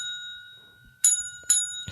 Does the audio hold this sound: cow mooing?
no